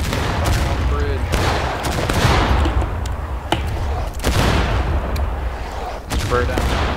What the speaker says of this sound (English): He's firing at will. He's firing on the bridge.